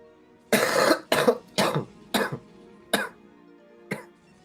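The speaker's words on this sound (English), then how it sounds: "we still got this cough" Six harsh coughs in quick bursts, the first longer and loudest, the later ones spaced apart and fading, close to the listener.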